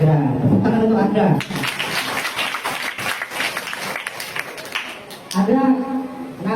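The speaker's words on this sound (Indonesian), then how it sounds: "tepuk tangan untuk Agra" Audience applause for a participant named Agra breaks out for about four seconds, a dense, steady wash of clapping that rises right after a man's speech and fades as he resumes talking.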